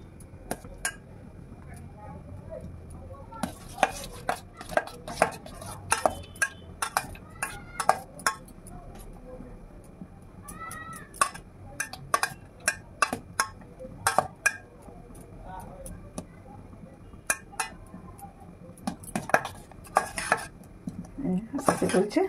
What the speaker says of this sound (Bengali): আমি স্টিলের সসপ্যানটা বসিয়ে আমি তার উপরে সাবানটা গলিয়ে নেবো। এই দেখুন দিতেই মতো এই দেখুন গলে যাচ্ছে